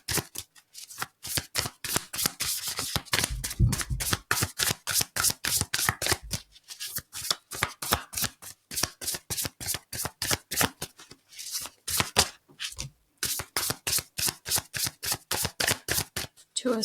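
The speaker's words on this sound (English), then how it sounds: "So I'm just putting them back in the deck." A deck of tarot cards shuffled by hand in a rapid, even riffle of crisp flicks, close and loud, with a few brief pauses and no talking.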